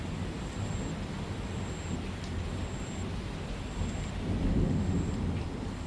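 Heavy rain pours steadily in a cartoon storm while thunder rolls underneath, swelling into a louder rumble near the end, with no voices.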